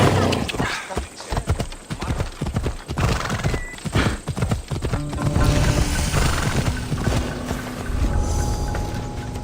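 Horse hooves clip-clop in a fast gallop across rough ground in Assassin's Creed Odyssey, with a neigh and whinny cutting through. The hoofbeats are loud and close, then settle into a steadier ride under game ambience.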